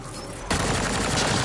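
Gunfire erupts in the Mass Effect: Andromeda video game, a sudden dense burst of rapid shots that starts after a brief quiet moment and stays loud to the end.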